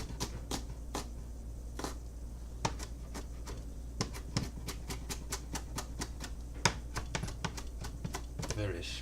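A knife chops an angry shallot on a cutting board, giving a steady run of sharp, close taps over a low background hum while someone talks.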